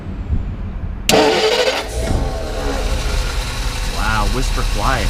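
A 1956 Dodge Sierra wagon with a 315 V8, oil bath air cleaner and 6-volt system cranks and catches, then settles into a quiet steady idle up close as people talk.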